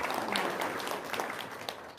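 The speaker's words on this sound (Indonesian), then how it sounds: "Tepuk tangan dong." A small group breaks into applause, a busy, fairly close patter of clapping hands that stays steady before thinning slightly toward the end, with no voices on top.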